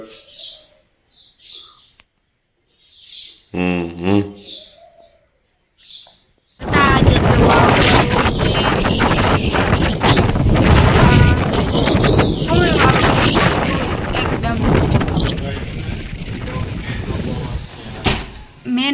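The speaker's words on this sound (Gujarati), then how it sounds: "શેનો પવન હે ઝાડવા હલે ઝાડવા" Strong gusty wind shaking trees in a village roars and buffets the microphone, rushing loudly and continuously after a quieter opening of short chirps and sounds.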